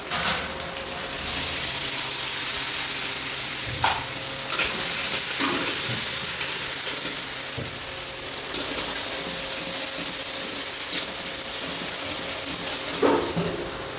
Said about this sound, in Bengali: হালকা পেঁয়াজ ভাজা হয়ে গেছে